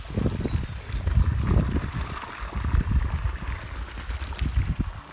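Water gushes under its own pressure from the outlet pipe of a drilled artesian well, a rough, splashing rush with irregular surges, close and fairly loud, with no voices.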